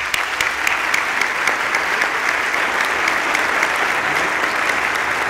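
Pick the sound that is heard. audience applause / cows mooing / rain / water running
audience applause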